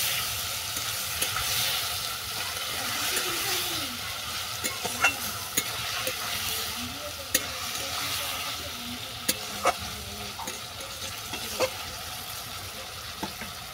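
Crab pieces cook in oil with coriander powder and other spices for a crab tel kosha with bitter gourd, giving a soft, steady sizzle broken by faint scraping clicks of stirring.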